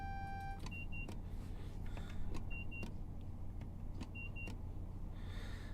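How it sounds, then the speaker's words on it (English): A warning beep in a train cab in Train Sim World 6 sounds as short paired high tones, three times at spaced intervals, over a steady low rumble of the moving train. "as soon as I take my foot off the pedal for a second, it beeps"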